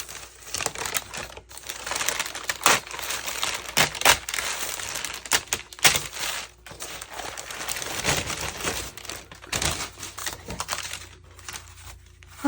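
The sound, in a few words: ripping apart scrap packing paper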